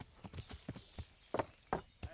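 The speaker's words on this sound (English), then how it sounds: "sorry about climbing on your stuff with my horse." A horse in Kingdom Come: Deliverance steps across the ground, its hooves landing in a quick, irregular series of close, distinct clops, two of them noticeably heavier.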